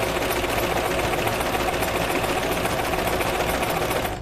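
A cover stitch machine sewing knit fabric runs in a fast, continuous mechanical whir and needle chatter, loud and close, with no pause and no talking.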